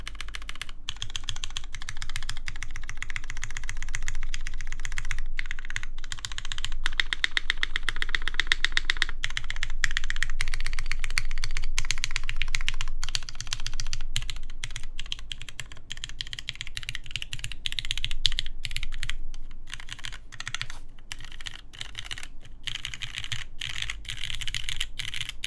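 A Keycult No. 2 mechanical keyboard with heavy 80 gram springs is typed on steadily. Close, crisp keystrokes come in fast, irregular bursts with short pauses, and no voices are heard.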